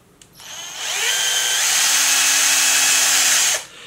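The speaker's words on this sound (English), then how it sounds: "I can then, watching out not to drill into my fingers on the other side, just kind of screw it in." Power drill driving a bolt through post-apocalyptic costume material, spinning up quickly and holding a loud, steady whine for about three seconds before stopping, close by.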